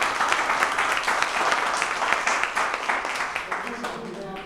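An audience at a National Career Service Centre event for differently abled people claps together in a steady, fairly close burst of applause, with a voice talking over part of it.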